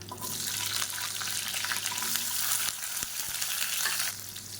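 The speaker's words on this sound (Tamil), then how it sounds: "10லேருந்து 15 சின்ன வெங்காயம் முழுசாக அப்படியே சேர்த்துக்கலாம்." Whole small shallots frying in hot oil with curry leaves, a continuous loud crackling sizzle with a few soft knocks of a spoon against the pan.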